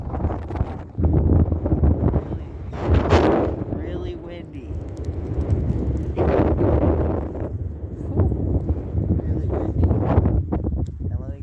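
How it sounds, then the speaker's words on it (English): Wind gusts buffet the microphone on a Utah mountainside during an elk hunt, loud rumbling bursts surging and easing in waves, with a voice speaking briefly between them. "when you're on this side of the mountain, the wind is blowing"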